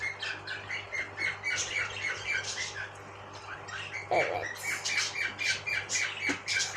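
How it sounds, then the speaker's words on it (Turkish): A parrot squawks repeatedly in loud, harsh bursts, with scattered chirps between them and a steady low hum underneath. "Papağanın biraz gürültü çıkıyor"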